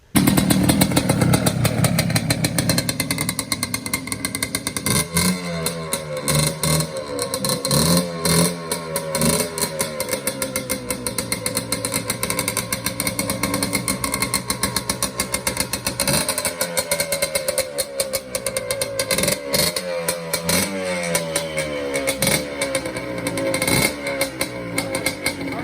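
Yamaha Blaster 200 engine running with its box unplugged, a steady buzzing two-stroke idle with repeated throttle blips and revs rising and falling, close and loud throughout with no talking.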